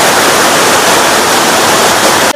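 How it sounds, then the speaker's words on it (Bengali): Elephant Falls in Meghalaya, its second tier, pours in a loud, steady roar of falling water that fills the whole clip before cutting off abruptly at the very end. "দেখো সেকেন্ড পজিশনে ঝর্ণাটা ওপর থেকে নিচের দিকে নামছে।"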